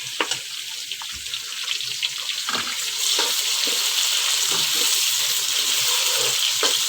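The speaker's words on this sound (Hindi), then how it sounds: "अब मैं इसमें प्याज डाल रही हूँ।" Onions going into hot oil with garlic and ginger in a home kitchen pan, giving a steady, close sizzle that swells after a few seconds, with light clinks and stirring over the frying hiss.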